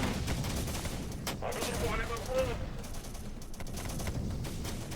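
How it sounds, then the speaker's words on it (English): Automatic grenade launcher fire in the Syrian Warfare strategy game, rendered as a dense, continuous rattle of rapid shots and booms that runs throughout at steady loudness, with a few sharper reports standing out. "I like that automatic grenade launcher too."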